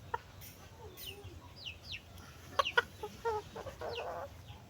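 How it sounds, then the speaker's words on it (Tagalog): A small Rhode Island chicken on a small farm clucks in short, soft bursts, with a few sharper calls in the middle, heard close but quietly against faint background bird chirps. "Mo ni atong pinakagamay nga manok."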